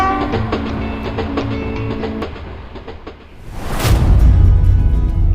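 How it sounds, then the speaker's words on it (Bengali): Rajshahi Commuter local train running through open fields in Bangladesh, a steady rumble and rattle of carriages with a rising roar of wind and wheels toward the end, heard from on board. "মাঠের বুক চিরে চলছে আমাদের ট্রেন।"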